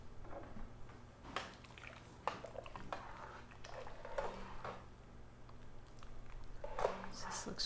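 Spatula scraping Provençal vegetable soup out of a pot in a home kitchen, a series of soft, irregular scrapes and clinks close by, with a person talking over them.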